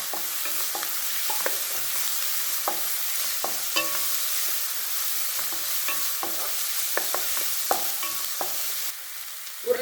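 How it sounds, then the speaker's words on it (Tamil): Ginger garlic paste sautéing in a pan for white kurma, a soft continuous sizzle broken by frequent scraping strokes of a spoon stirring, close and alone without talk. "இஞ்சி பூண்டு விழுது, அதையும் லேசாக ஒரு வதக்கு."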